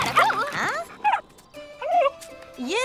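Cartoon dog barking and yipping at a bone-shaped-cake birthday party for a dog, with several short high yaps and whimpering cries spread across the clip, loud and close, alone without talk.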